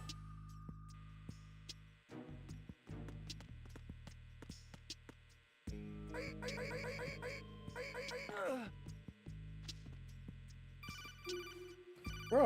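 Codec call ringing in Metal Gear Solid 2, a repeating electronic ring that keeps going over steady hum in stop-start bursts, with a voice talking in between.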